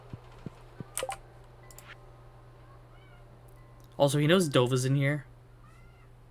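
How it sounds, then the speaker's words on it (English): A pet cat named Cicero meows from behind a closed door in a burst of several loud, drawn-out, wavering calls. Faint keyboard clicks and a voice come before it. "I think Cicero's on the other side of the door meowing because he's not in this room."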